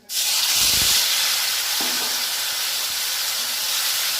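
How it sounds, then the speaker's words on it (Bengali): Boiled pointed gourd drops into a hot pan with a sudden loud hiss that settles into a strong, steady sizzle, with a brief clatter early on and no voices. "লবণ, পটল সেদ্ধগুলো ওর মধ্যে এবার ঢেলে দেবো।"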